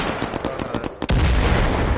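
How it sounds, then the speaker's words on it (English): Grenade blast in a PS4 shooter game, a sudden loud boom about halfway through that follows lighter rapid in-game noises and is left ringing in a heavy low rumble. "Grenade."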